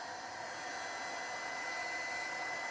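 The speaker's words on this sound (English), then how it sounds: "Heat gun is one of the most important tools when you work with this paste" A heat gun blowing steadily at close range to dry craft paste on an old camera, a constant loud airy roar with a faint whine.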